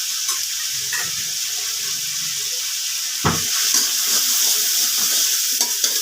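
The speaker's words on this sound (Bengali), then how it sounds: "মশলার সাথে অল্প লাউ দিয়ে ভালো করে কষিয়ে নিয়ে বাদ বাকি লাউটাকে এবার ঢেলে দেবো।" Ground spices and bottle gourd fry in a pan, a steady sizzle with stirring scrapes and one sharp clink of a utensil, no voices.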